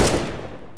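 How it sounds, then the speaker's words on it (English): A designed AK automatic-weapon gunfire effect for a game, tuned to sound old and clanky with added M60 machine-gun mechanism clank; a single loud, close burst that decays through the clip, with a fresh sharp crack at the very end. "The AK needs to sound old and clanky"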